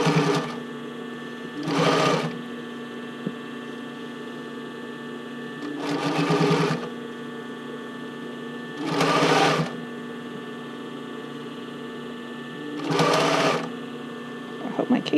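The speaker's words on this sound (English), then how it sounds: "so you're sewing up." A sewing machine stitches bra cups into the band in four short, evenly spaced bursts of whirring, with a steady low hum between runs.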